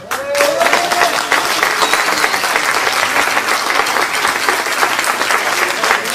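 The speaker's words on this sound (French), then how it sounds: "Je voudrais qu'on applaudisse très très fort Julien Rue qui est au son derrière." A concert audience in Le Vigan bursts into loud, sustained applause for the sound engineer, dense clapping from a crowd filling the room, with a brief voice at the start.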